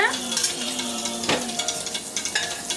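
Dal and vegetables being stirred in a pot, a close, steady scraping and stirring over a constant sizzle, with a sharper clatter against the pot partway through.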